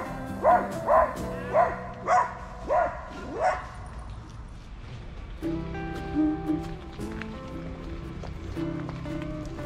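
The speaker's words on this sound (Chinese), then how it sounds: "那边有狗子，好像想打架的样子" A dog barks about six times in a steady series, fairly close, followed by a low engine-like drone with more muffled barking.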